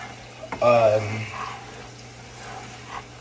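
Water poured into a homemade barbecue mop sauce made with apple cider vinegar, a short splashing pour near the microphone lasting about a second, with speech around it.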